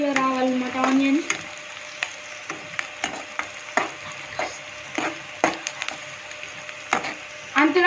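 Onions sizzling in hot oil as they turn golden for a prawn curry, a steady close hiss punctuated by regular sharp clacks of a spatula stirring the pan, with no talking.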